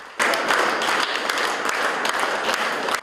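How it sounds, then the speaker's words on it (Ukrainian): Applause for a late maestro at his farewell, dense clapping that starts abruptly and continues steadily and fairly close for a few seconds before stopping. "сьогодні звучали останні оплески для маестро"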